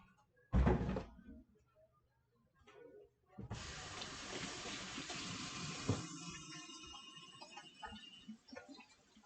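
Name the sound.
hands in soapy water while cleaning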